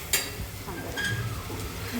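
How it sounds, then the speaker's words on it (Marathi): Chopped onion sautéing in a pan for pav bhaji, a soft steady sizzle with a sharp clink of a utensil against the pan near the start and light stirring scrapes. "सो असा कांदा जरा परतून घ्यायचा असं छान."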